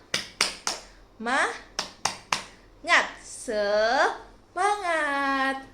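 A fifth-grade class in Indonesia performs a clapping chant: crisp bursts of three quick claps alternate with children's voices chanting and shouting together, the claps sharp and close, the voices rising in sung calls.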